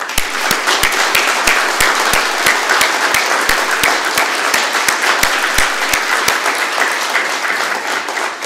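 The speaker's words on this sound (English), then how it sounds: "I'd like to give our newest officers a round of applause" A crowd at a police department swearing-in ceremony applauds its newest officers, dense sustained clapping filling the room evenly, with sharp individual claps standing out near the microphone throughout.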